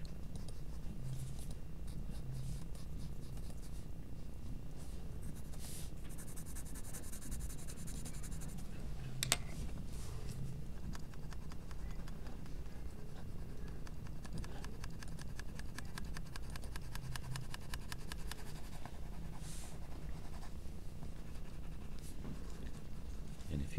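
Graphite pencil scratches and rubs across paper up close, a soft, continuous, faint shading texture of short strokes with one sharper tick partway through, and no voices.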